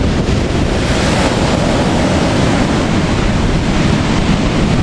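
Ocean surf rolls steadily and close while a dog plays in the waves, the broadband wash of water mixed with strong wind buffeting the microphone throughout, with no voices.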